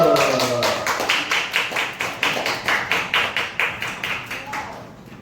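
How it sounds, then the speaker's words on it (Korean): A church Bible-study gathering claps in a steady, even rhythm, about twenty crisp beats in a row, fairly close, tapering off at the end. "박수."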